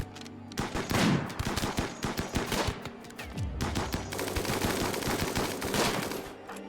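Rapid gunfire from the video game RimWorld, dense bursts of shots crackling almost continuously and loudly in the foreground.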